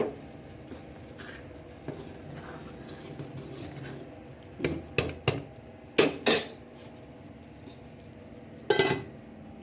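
Dishes, pots and utensils being washed and scrubbed at home: sporadic metallic clanks and clatters of steel vessels knocking together, loud and close, in clusters separated by quieter stretches.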